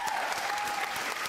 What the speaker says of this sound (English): So you should really give yourself a round of applause.